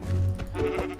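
A sheep in the Minecraft video game bleats in a loud, close, drawn-out wavering call, repeated briefly with no talking.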